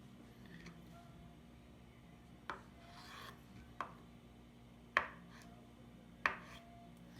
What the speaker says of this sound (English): So I just cut tofu.